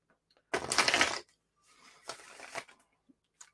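A deck of cards is shuffled in two quick riffling bursts, close and crisp, separated by a brief pause, with a faint tap at the end.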